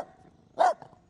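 A single sharp bark from a small dachshund, close and fairly loud, standing alone after a brief quiet moment.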